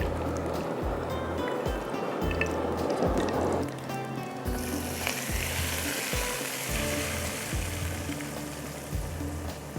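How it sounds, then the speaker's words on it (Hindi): Hot oil is poured over a dum fish dish topped with green chilies, coriander and mint leaves, setting off a loud, continuous close sizzle that swells as the oil lands and crackles on steadily. "अब ये गरम गरम ऑयल डालूंगी"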